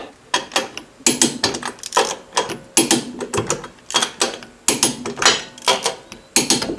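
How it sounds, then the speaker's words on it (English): A torque wrench set to 100 foot-pounds tightens lug nuts, making a series of sharp, close mechanical ratcheting bursts in an irregular rhythm with brief pauses between them. "got the torque wrench set to 100 foot-pounds, and let's see if it's got any slack"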